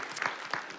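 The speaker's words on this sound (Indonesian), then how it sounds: "Kasih tepuk tangan biar semangat begitu ya." Applause from a church audience, a brief burst of steady clapping from the gathered crowd.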